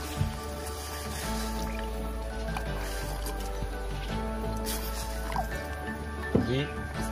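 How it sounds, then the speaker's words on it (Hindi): Water poured into a cooking pot of fish boiled with bamboo shoot, giving soft drips and a brief trickling splash over a steady low background hum, close by. "थोड़ा सा पानी देगा इसमें।"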